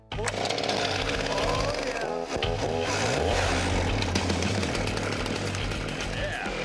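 A chainsaw roars continuously at close range, its engine snarling loudly and steadily with a brief dip partway through.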